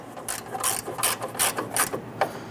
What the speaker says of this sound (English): we'll go ahead and snug that down with our ratchet